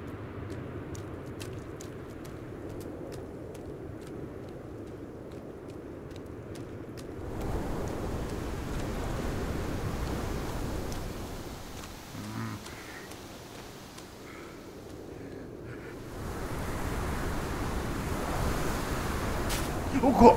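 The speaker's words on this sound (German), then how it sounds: "Windig ist das hier." Wind gusts through a forest in the survival video game Sons of the Forest, a soft, steady rushing noise that swells louder midway and again near the end, with faint scattered clicks.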